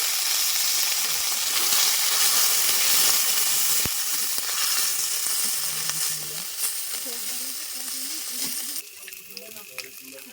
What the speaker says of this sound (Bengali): আদা আমি তেলে মেরে নিয়েছি